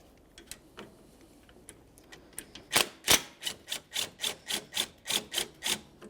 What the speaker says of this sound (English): Remove the 10mm headed bolt, and then remove the lines from the AC condenser.